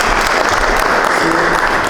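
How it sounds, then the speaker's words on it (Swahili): An audience at the closing day of a youth economic empowerment project breaks into loud, sustained applause, dense clapping that fills the whole moment at close range. "Tumpigia makofi."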